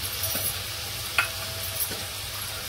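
Garlic cloves and a green chilli sizzling in a pan with beetroot, carrot and ginger, a steady quiet hiss with a couple of brief stirring clicks.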